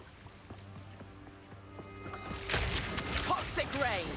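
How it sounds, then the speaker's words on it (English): Toxic Rain skill from a poison and chaos Pathfinder build in Path of Exile 2, cast on an open endgame map: steady game ambience with rhythmic ticks gives way midway to a loud, dense hissing burst laced with whistling tones, with a voice talking over it. "Toxic rain."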